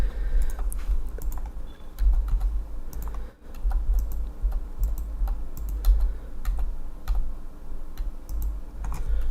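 Rapid computer keyboard typing and mouse clicking while playing The Lord of the Rings Online, a steady stream of close, crisp clicks over a low electrical hum, with one brief pause.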